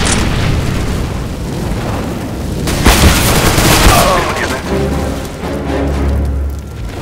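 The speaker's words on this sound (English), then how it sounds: "Grenade out. Throwing fire!" A grenade blast in Counter-Strike: Global Offensive, a loud booming explosion rolling out mid-clip over dense game noise and distant gunfire, followed by a low rumble.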